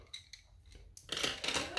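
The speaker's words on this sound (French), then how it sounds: "Ciseaux." Scissors snip close by while a colour swatch chart is being made: a few quiet, crisp clicks followed by a louder, rustling cut.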